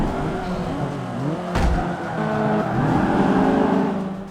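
Racing-car engine from the Forza Motorsport 5 video game, revving and shifting through gears in a loud, continuous whine with a brief sharp burst midway, no talking.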